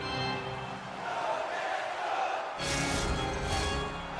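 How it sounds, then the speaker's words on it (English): A hockey crowd roars in a large arena, a steady loud wash of cheering voices that surges higher partway through and swells again in waves. "You can feel the energy in this crowd."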